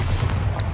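A Bombarda spell explosion in the wizarding video game Hogwarts Legacy makes a short, loud, muffled boom with a heavy low rumble that stays dense through the brief moment.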